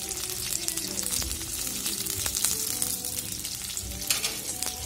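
Onions fry on a high gas flame for anda bhurji, a dense continuous sizzle with crackling spatter and occasional stirring clinks, close and steady with no talk.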